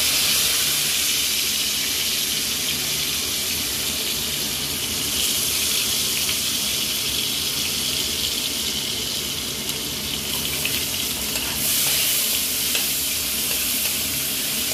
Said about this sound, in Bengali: পেঁয়াজটাকে একটু নাড়াচাড়া করে তারপরে পেঁয়াজ বাটা দিয়ে দেবো।